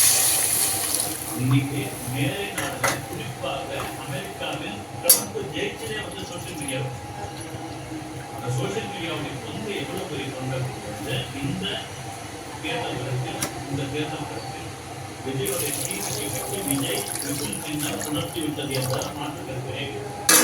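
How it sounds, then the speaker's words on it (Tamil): Water running and splashing steadily into a pan of vermicelli for about twenty seconds, with a voice talking faintly underneath and a few clinks of utensils. "இதில் 2 கப்பு தண்ணி ஊற்றிக்கலாம்."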